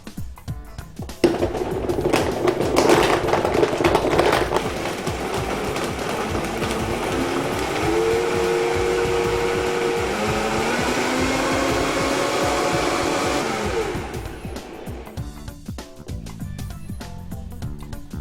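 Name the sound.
blender whizzing berry coconut smoothie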